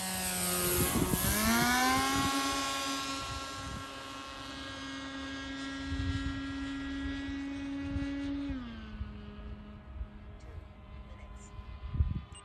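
An 83-inch RQ-7 Shadow RC model aircraft from Legend Hobby flies past on its maiden flight, its propeller engine droning steadily, then the pitch drops as the throttle is eased back and it moves away, with faint voices nearby.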